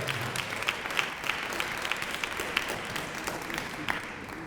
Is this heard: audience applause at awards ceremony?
yes